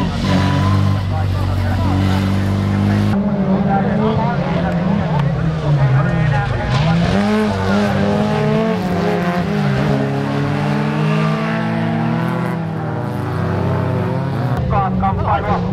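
Folkrace cars race on a dirt track, their engines revving and whining in rising and falling sweeps, loud and close, with a voice commentating over the engine noise.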